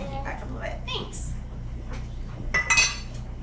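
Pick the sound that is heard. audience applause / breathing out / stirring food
stirring food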